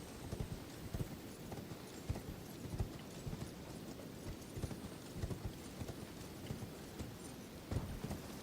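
Horse hooves clip-clop in a fast, steady galloping rhythm in the video game Elden Ring, faint and continuous with no talking.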